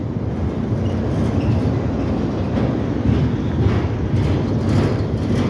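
A CSX freight train rolls past on the Delair Bridge, its steady low rumble and rattling wheels filling the air continuously and loud, with no talk over it.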